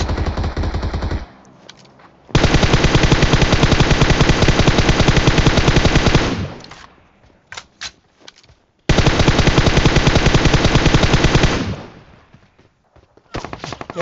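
Sustained automatic gunfire in the PUBG Mobile battle game, heard as two long, loud, dense bursts separated by a gap with a few scattered shots, then a final short burst.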